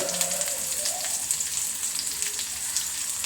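Garlic fries in hot oil in a pan, giving a steady, dense sizzle with crackling pops throughout, close and fairly loud with no talking.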